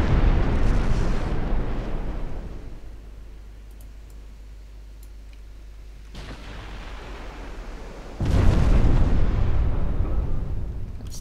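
Warship main guns firing in Ultimate Admiral Dreadnoughts, a heavy blast at the start fading into a low rumble, then a second loud boom after several seconds, with no talk.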